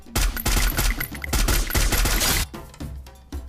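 Loud bursts of rapid automatic gunfire from a shooter video game, dense volleys for about two seconds, then a lull broken by a few scattered shots.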